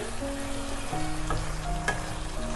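Potatoes frying with sugar in a pan for Bengali alur dum, a steady close sizzle with occasional stirring scrapes and clinks, no voices.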